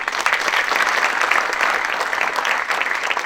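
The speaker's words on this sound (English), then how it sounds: "So how about a hand of applause for the judges?" An audience applauds the judges at a university competition event, a steady, dense wash of many hands clapping that stays loud and continuous throughout with no voices over it.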